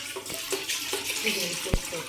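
Toor dal being rinsed in water, with splashing, trickling and a few sharp clinks of the grains and vessel across about two seconds, fairly faint and close.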